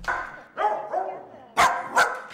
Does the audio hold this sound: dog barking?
yes